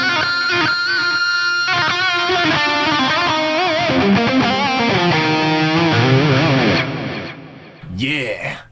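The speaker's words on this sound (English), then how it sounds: "this is the HBE patch that I dialed in the other day on 5-minute tones" A distorted electric guitar, a single-cut model run through an HBE patch on an Axe-Fx amp simulator, plays heavy sustained chords and bending riffs for several seconds, loud and saturated, then cuts off as a voice begins talking.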